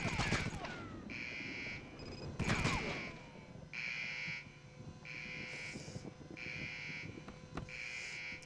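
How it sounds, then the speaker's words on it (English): An alarm in the Iron Storm game sounds as a repeating electronic buzzer, about six evenly spaced pulses, mixed with loud gunfire bursts and crashes; a voice talks briefly over it. "Let's turn off the alarm."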